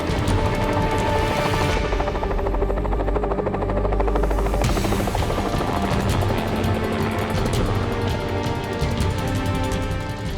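A helicopter capturing bighorn sheep in the Catalina Mountains: the rotor thumps steadily and loudly with a heavy engine drone, continuous throughout with no voices.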